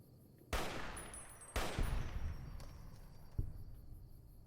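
Gunfire in the video game Fallout New Vegas: a few loud, sharp shots spaced roughly a second apart, each ringing out with a long decaying tail over low background noise.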